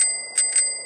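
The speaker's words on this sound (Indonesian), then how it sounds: "Tiba-tiba dengeran bunyi bel sepeda kecil dari arah lantai" A small bicycle bell heard from the floor of an old Dutch house, ringing with a bright metallic ding in two quick strikes, fairly quiet and close, with a lingering tonal ring between them.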